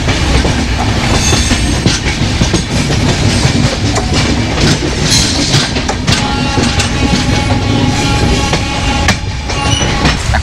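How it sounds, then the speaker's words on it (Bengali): The Samarkanti Express pulls out of Cuttack station, its wheels clattering and rumbling loudly and continuously, with rhythmic clickety-clack and occasional metallic squeals. "সমরকান্তি এক্সপ্রেস ছেড়ে যাচ্ছে কটক স্টেশন"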